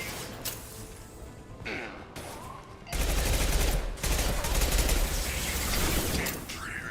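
SMG fire in Mass Effect 2: rapid bursts of submachine gun shots rattle loudly, with mechanical clicks between bursts and a long sustained burst in the second half, amid game effects.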